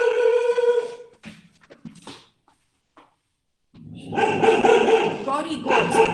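A dog barks loudly and repeatedly nearby in bursts, with harsh yelping tones, broken by a short near-silent gap before the barking resumes more intensely.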